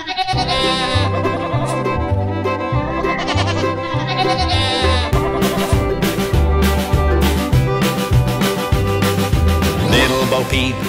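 Bleating like a sheep over a bouncy children's nursery-rhyme song with a steady, thumping bass line and a bright melody that plays throughout.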